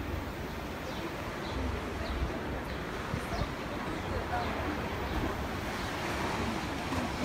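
Waves wash steadily onto a sandy beach at a Turkish seaside hotel, a continuous rolling surf roar mixed with wind buffeting the microphone, with no clear pauses throughout.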